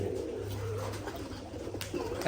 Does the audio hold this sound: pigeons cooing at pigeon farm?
yes